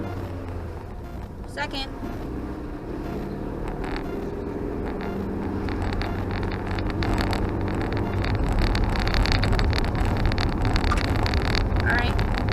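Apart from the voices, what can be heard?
2003 Kia Rio car driving down the street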